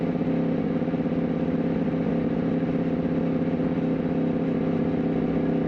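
A sport motorcycle with a new Stage 1 tune runs at barely any throttle, giving a steady, close, droning engine hum that holds even with no revving.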